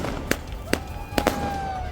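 Fireworks and firecrackers go off in a family celebration in Baramulla, four sharp, loud pops in quick succession over a steady background hum.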